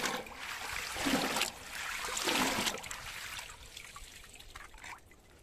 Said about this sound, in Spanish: Las podemos enjuagar en agua limpia.